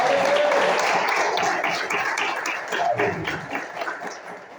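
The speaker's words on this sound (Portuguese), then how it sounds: "Vamos dar um louvor de palmas para o Senhor." A church congregation claps in praise during a service, a loud full room of hands that starts strong and gradually thins and fades, with some voices mixed in.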